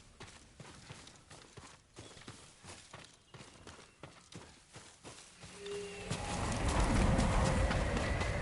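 Horse hooves in a video game clip-clop in a steady walking rhythm, then a louder rushing wash of noise swells in near the end.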